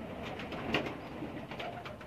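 Pakistani pigeons kept on a rooftop loft give soft, low cooing calls. Faint, close murmurs rise over light background noise, with one brief sharper note near the middle.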